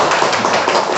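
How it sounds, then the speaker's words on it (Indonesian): An audience applauds at a speech, a dense patter of clapping hands that holds at an even level throughout the short burst, with no speech over it. "Tepuk tangan untuk Pak Ajun."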